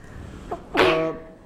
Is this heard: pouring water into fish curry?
no